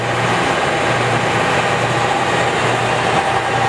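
A Cincinnati #3HD horizontal milling machine runs at a steady pace, a continuous dense mechanical whir and drone with a low hum, close and unbroken throughout.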